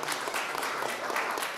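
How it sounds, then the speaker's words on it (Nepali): Church congregation applauding at a Christmas gift-sharing service, a brief burst of dense clapping filling the room. "सबैले ताली बजाइदिनु होला"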